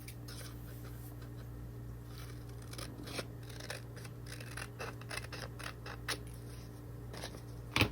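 Scissors snip through paper for a handmade journal page, a quiet run of short, irregular cuts close by with no talking.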